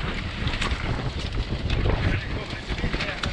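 Wind buffets loudly across a microphone in gusty, rumbling bursts aboard a sailboat off Sardinia, with the wash of water faintly underneath and no clear voices.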